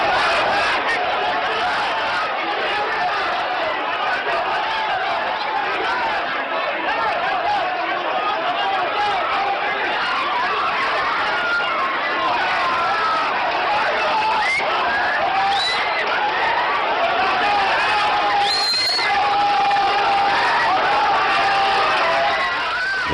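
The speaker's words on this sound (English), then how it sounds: "riot police storming the crowd" Dense, steady roar of a large protest crowd in Iran as riot police storm it, shouting and cries blending into continuous loud noise with occasional higher yells, lasting throughout.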